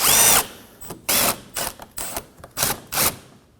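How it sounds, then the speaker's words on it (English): A power tool fitted with a 10mm socket spins out front bumper bolts on a 2014-2020 Acura MDX in about seven short whirring bursts with brief pauses between them, close up and with no speech. "With a 10mm socket, we're going to remove the 2 10mm."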